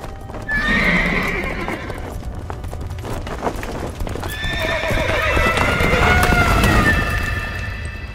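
Galloping horse hooves pound steadily and loudly while a horse neighs and whinnies, staged as a radio-drama sound effect with a dense rumbling backdrop.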